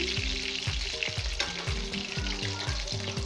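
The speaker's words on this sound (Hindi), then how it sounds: "कबाब हमारे एक तरफ से फ्राई हो गए हैं। अब मैं इनकी साइड चेंज करूंगी" Seekh kebabs fry in a pan with a steady, close, crackling sizzle and occasional stirring sounds, with no talking.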